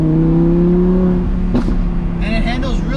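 Exhaust of a 2020 Audi R8 Decennium, a rumbling engine note holding steady and loud, with a brief burst midway and higher whining tones later, continuous throughout.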